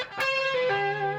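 Distorted electric guitar with effects plays a major-thirds double-stop shape high on the neck with an extra note added on top, one picked attack ringing into a sustained, harmonically rich chord, close and alone.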